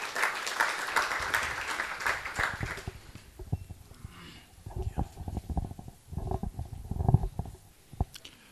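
Audience at an energy forum in Eswatini claps for a diplomat coming up front, a burst of applause in the first seconds that thins into scattered claps, shuffling and low rumbling noises.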